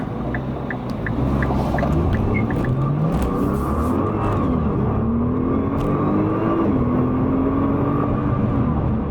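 A 2018 Nissan GT-R Premium pulls away from a dead stop onto a busy highway, its engine note climbing steadily through the gears toward highway speed, loud and continuous inside the cabin with wind and road noise.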